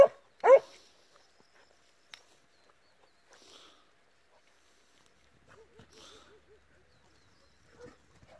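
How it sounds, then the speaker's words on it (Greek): A hunting dog follows a fresh hare scent trail in damp conditions near Kilkis, Greece. One sharp bark sounds near the start, then a quick run of faint, distant yelping calls follows in quiet open country. "Γι' αυτό και ο σκύλος φωνάζει"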